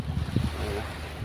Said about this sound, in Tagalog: Lumakas na ang alon sa laot.